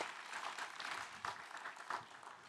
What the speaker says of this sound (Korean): 주님께 영광의 박수를 돌려드리겠습니다.